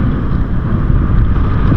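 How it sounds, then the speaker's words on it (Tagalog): Strong wind roars and buffets the microphone aboard a small fishing boat out at sea, a loud, steady rush with no speech. "Lakas ng hangin."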